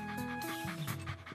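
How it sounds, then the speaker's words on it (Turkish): A small cartoon puppy pants in quick, breathy bursts close up, with a short whimper-like tone and a faint background voice during the brief moment. "Arkadaşımın mini köpek yavrusunu hatırladın mı?"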